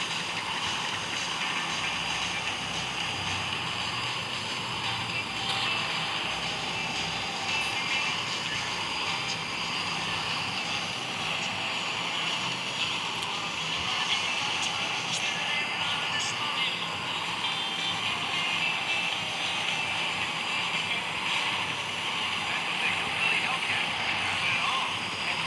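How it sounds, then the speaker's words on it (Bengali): Helicopters near an army camp in the video game Gangster Vegas give a continuous whirring engine drone under occasional talk. "হেলিকপ্টার বাহিনী চলে এসেছে"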